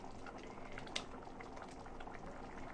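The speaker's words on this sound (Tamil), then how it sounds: "இப்போ இந்த கிரேவி வந்து நல்லா கெட்டியாக நல்லா குக் ஆகிடுது." Egg masala gravy bubbles in a pan as it cooks down and thickens, a continuous close, soft blipping and popping with one sharper pop partway through and no talking.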